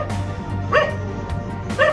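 A dog left under a tree in cold weather gives a few short barks and yips, moderately close, spaced over a steady low background hum.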